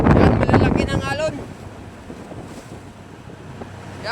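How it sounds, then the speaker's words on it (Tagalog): Strong wind buffets the microphone on a small fishing boat heading home slowly over big waves with a broken outrigger float, a loud roar easing into a steady rushing wash; someone talks over it at the start. "Yan, malalaki ng alon."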